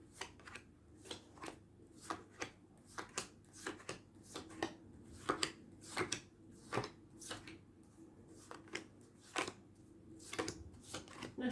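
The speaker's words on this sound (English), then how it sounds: "I have to learn to shuffle with the left hand, I think," Tarot cards being shuffled by hand, a steady run of crisp riffling and slapping bursts repeating for several seconds, close and fairly quiet with no talking.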